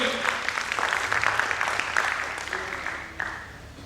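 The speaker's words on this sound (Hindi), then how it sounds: "मैं चाहूंगा एक बार पुनः जोरदार ताली आप तमाम अतिथियों के लिए" A crowd gives loud applause for the guests being invited onto the stage at a formal event. The clapping is dense and sustained, close and full, and fades slightly toward the end.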